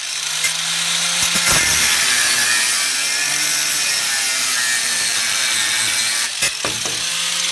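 A 5-inch cut-off wheel grinds through the track bar of a 1996 Jeep Cherokee XJ, giving a steady, loud, high abrasive screech that holds for the whole stretch, with a few brief knocks near the start and end and no talk.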